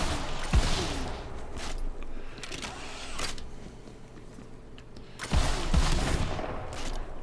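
The Brainstormer gun fires in Borderlands 3 gameplay in sharp electric bursts, with loud volleys near the start and again toward the end, separated by quieter clicks of reloading and handling.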